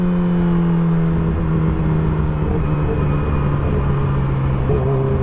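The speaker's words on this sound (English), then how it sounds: "My bike is loud, bro." Motorcycle engine revving loudly, a close, continuous droning whir that holds steady with slight pitch shifts throughout.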